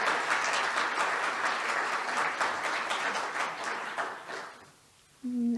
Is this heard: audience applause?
yes